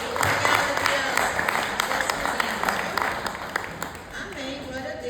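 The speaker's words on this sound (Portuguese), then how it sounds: "Aplaudir aí o Senhor." A church congregation applauds in a burst of scattered clapping that fills the room and then fades out, while someone speaks over it.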